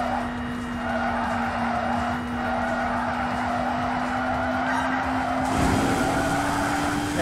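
A race car drifting in the Xenon Racer video game, engine droning steadily while tires skid and squeal continuously through a drift section, loud and close.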